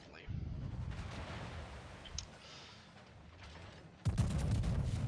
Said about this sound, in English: My third salvo is out on that Sovietsky Soyuz Tier 9 Soviet battleship